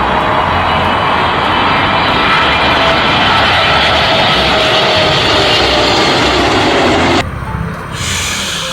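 A toy Boeing airplane gives off a loud, continuous jet-engine roar that cuts off abruptly near the end, leaving a quieter hum, with no one talking.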